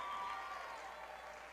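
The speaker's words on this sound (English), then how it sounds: "Bison starters get applauded" Fans at a boys' high school basketball tournament game give scattered applause to the Buffalo Bison starters, a soft, steady spread of clapping heard from a distance in the gym.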